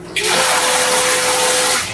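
Electric pump kicks on and runs steadily, forcing water out of a tank on a commercial-size RO/DI water filtration setup; a loud, constant rushing hiss starts abruptly after a moment and continues alone to the end.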